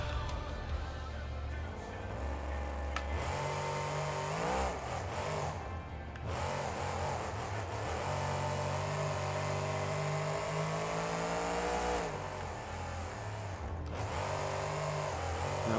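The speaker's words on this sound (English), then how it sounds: "let's take a racing pass. See if I can do a decent pass" A monster truck engine in the video game BeamNG.drive races around a stadium track, a loud continuous droning whine that rises and dips with throttle changes throughout, with faint talk now and then.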